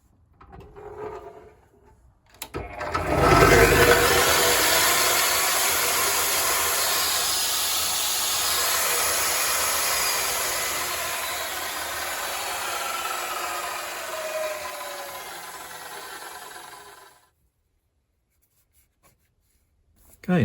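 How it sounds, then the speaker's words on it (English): Evolution chop saw, a wood mitre saw, started through a soft-start socket: the motor spins up gradually into a loud, steady whine and hum for about fourteen seconds, then cuts off, with faint talk before it starts. "I wonder if I try the Evolution chop saw as well in that socket"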